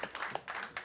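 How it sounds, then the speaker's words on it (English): Short bursts of audience applause at a Cannes Lions 2016 panel session, several clapping swells across under a second, moderately loud and fairly close, with faint talk mixed in. "And round of applause to our great"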